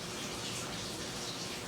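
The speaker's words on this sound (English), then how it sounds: "You can hear the water running in the background." Water runs steadily from a bathtub tap into the tub of an off-grid cabin, flushing sand from pipes left unused for six months, a constant even rush.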